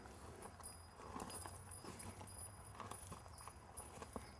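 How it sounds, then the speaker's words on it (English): A horse's hooves clip-clop in a slow, uneven series of steps as it backs up on a ranch during a riding lesson, fairly close and steady with no talk over them. "she will back that horse up"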